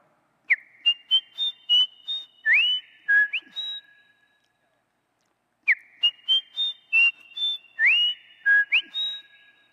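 A person whistles an imitation of a fantail flycatcher's song: a crisp sequence of six to seven bright, clear notes, repeated twice with a pause between, loud and close.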